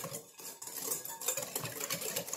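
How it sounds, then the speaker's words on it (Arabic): A utensil whisks eggs and oil together in a bowl for a cookie dough, making a steady, quick run of clinking and scraping strokes close by, with no voices. "صافي انا غادي نخدم هاد البيض والزيت مزيان حتى نحس بهم بداو كيذوبوا"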